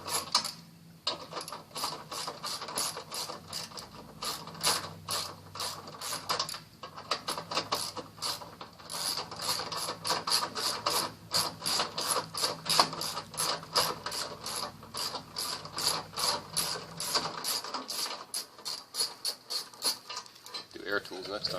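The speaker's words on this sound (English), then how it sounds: "first step, remove with a 13mm wrench" Steady rapid clicking of a 13mm ratchet wrench loosening the front saddlebag guard mount on a Victory Cross Country police motorcycle, close and continuous with brief pauses, no talk.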